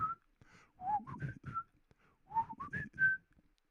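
A person whistles a melody from a song, a clear, close-up tune in short phrases broken by brief pauses, with no other sound.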